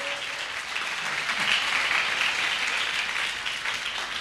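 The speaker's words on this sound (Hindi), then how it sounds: "आइए ताली बजाएं, ताली बजाएं, ताली बजाएं।" A church congregation claps steadily and loudly throughout, a dense wash of applause with no talking.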